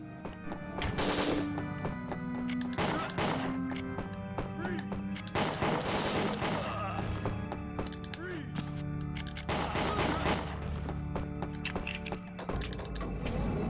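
Gunfire from shooting enemies in the video game Winback: Covert Operations, several loud bursts of shots with metallic impacts over continuous game music and effects.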